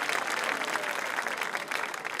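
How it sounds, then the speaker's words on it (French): Brief burst of audience applause at an inauguration event, dense steady clapping from a crowd throughout with no voices over it. "Applaudissez-le s'il vous plaît aussi."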